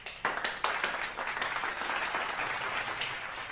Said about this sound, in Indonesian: Beri tepuk tangannya buat kita semua yang sudah semangat belajar hari ini